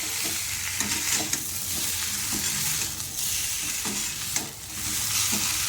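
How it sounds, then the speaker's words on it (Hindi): Stuffed snake gourd is stirred in a hot pan, giving a steady close sizzle with repeated scraping and stirring strokes, and no one speaks. "अब इसे हम अच्छी तरह से चला लेंगे"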